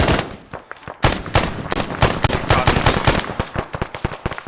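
Sustained gunfire in a military-style combat game, dense bursts of rapid shots and loud cracks after a brief lull, close and continuous like suppressive fire, with no speech over it.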